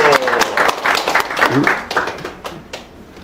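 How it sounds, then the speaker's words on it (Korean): A burst of applause from a small lecture audience welcoming a speaker, loud at first and thinning out over a few seconds, with some voices mixed in. "여러분 박수로 환영해 주세요"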